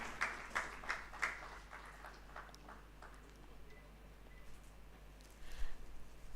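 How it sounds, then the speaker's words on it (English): Scattered hands clap at a pediatrics medical conference, several distinct claps up front quickly thinning into faint, sparse patters in a quiet hall. "A big round of applause"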